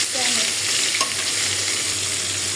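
Katla fish pieces coated in spice paste dry-fry in a pan without water, sizzling steadily and close up, with stirring scrapes and no voices.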